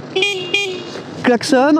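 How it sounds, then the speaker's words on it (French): The horn of a Halo Knight T108 Pro electric scooter gives two short, steady beeps close by, followed by a person talking. "Ensuite on a le klaxon"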